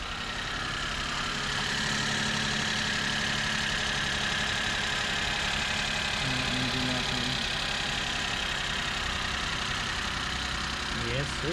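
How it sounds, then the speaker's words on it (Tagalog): A turbocharged, fuel-injected Suzuki Every Wagon K6A engine with timing chain idles steadily throughout, a constant mid-low hum, while someone talks over it. "K6A engine, turbo. This is fuel injected, timing chain."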